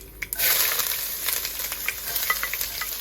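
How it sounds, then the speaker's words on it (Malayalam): Garlic and ginger dropped into hot oil with popped mustard seeds for a Kerala kurukku kalan, starting with a sudden burst of sizzling that settles into a steady hiss with scattered crackles and stirring clinks, close with no talk. "കടുക് പൊട്ടി നമുക്ക് വെളുത്തുള്ളി ഇഞ്ചി ഇട്ട് കൊടുക്കാം."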